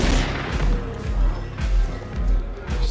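Gunfire in the video game Cyberpunk 2077, a series of four or five heavy booming shots spaced about half a second apart, fairly loud, with no talk over them.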